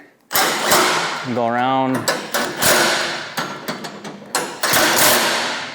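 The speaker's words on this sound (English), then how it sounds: "I'm just gonna take my impact with the 1 1/8" socket again. Make sure it's in the tighten." An impact wrench with a 1 1/8 inch socket snugs bolts on a MUSKOX 26-84 snowblower, giving loud, close bursts of hammering whirr broken by brief pauses, while a voice speaks briefly.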